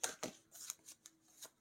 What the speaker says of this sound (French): trop de cartes qui tombent